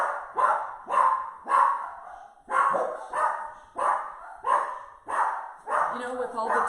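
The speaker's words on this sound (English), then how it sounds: "they'll stop barking eventually" Several dogs bark repeatedly at deliveries, loud and close, in a steady run of roughly a dozen sharp barks with brief pauses, some whining mixed in.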